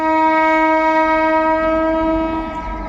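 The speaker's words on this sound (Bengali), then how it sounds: "আজিমগঞ্জের দিকে ট্রেন ঢুকছে আজিমগঞ্জ জংশন রেল স্টেশন ঢুকছে ট্রেন" A train arriving at Azimganj Junction railway station, on the Katwa line route via the Nasipur bridge, sounds one long, loud, steady horn blast that fades slightly near the end.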